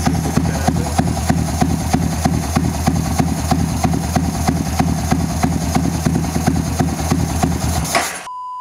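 A Yamaha V-Ixion motorcycle engine idles at around 1000 rpm with a steady, even mid-pitched putter that runs without a break and then cuts off abruptly at the end.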